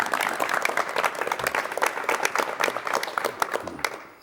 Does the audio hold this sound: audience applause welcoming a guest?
yes